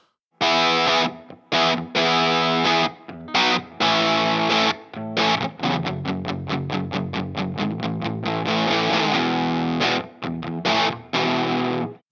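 An electric guitar, an Eastwood Airline H44 Deluxe on its bridge pickup, with a bright, slightly gritty overdriven tone plays choppy strummed chords and a quick run of rhythmic hits, loud and close, no talking.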